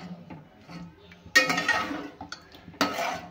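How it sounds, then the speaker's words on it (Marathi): A metal cooking pot clanks down onto a gas stove, two sharp metallic knocks amid quieter kitchen clatter. "हे पातेलं गॅसवर ठेवूया"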